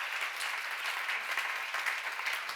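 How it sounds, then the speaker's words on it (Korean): A church congregation at a seminar applauds in a steady, dense wash of many hands clapping that fills the whole moment evenly, with no voices over it. "박수로 하세요."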